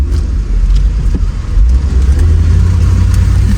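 A Mercedes R129 SL500 running on a new wiring harness drives along with a loud, close engine hum and road rumble, a steady low drone that swells slightly midway, no voices.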